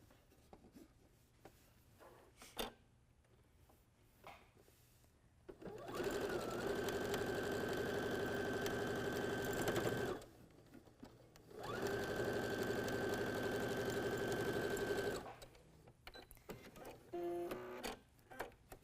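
Sewing machine stitching a quarter-inch quilt seam on migrating-geese patchwork, two steady motor runs of about four seconds each with a short pause between, close and clear.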